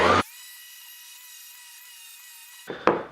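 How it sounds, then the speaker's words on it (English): A sander works over a picture frame coated in patina wax, producing a steady, even whirring hum for about two and a half seconds, framed by brief rough scraping noises at the start and end. "Now I'm going to try hitting it with sander."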